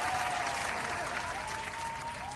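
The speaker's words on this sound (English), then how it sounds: "Round of applause for that." Canned applause sound effect played on a crypto trading livestream, a steady wash of clapping and light crowd noise running evenly for a couple of seconds without a break.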